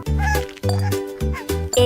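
A cat meows repeatedly, five drawn-out, insistent calls in quick succession, close and clear with short gaps between them.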